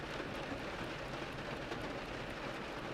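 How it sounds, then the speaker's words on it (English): Steady rain pours down outside while someone potters around indoors, a soft, even broadband hiss holding constant throughout with no voices. "the rain is rushing down outside"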